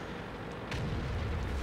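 A tank cannon fires in World of Tanks, from an M41 Walker Bulldog light tank with a fast reload: one loud boom about halfway through, followed by a sustained low rumble over steady game background noise.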